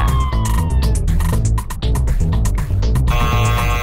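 A siren wails in the Nancy Drew: Phantom of Venice video game, loud and continuous over dense, thumping dance music.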